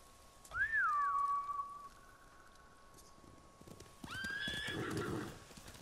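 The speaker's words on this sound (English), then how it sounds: "Bastards scared off the horses." In the video game Ghost of Tsushima, a samurai's horse whinnies loudly, a falling neigh, then after a pause another whinny rises with snorting and hoof-like rustle underneath.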